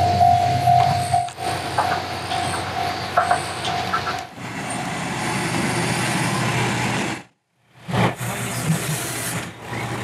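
A train pulls out of Ichijōdani Station in Fukui with a steady rumble and faint tonal hum, broken by a short silent gap near the end before the rumble resumes.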